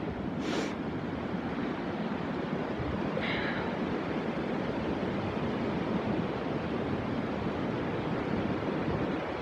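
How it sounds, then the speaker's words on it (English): Strong Storm Ciara wind blasts straight into the microphone outdoors on a Hertfordshire dog walk, a loud unbroken roaring rumble for the whole stretch with no talking. "Such is the force of the wind blowing right at me."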